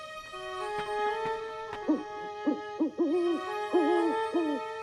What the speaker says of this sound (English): Just an owl.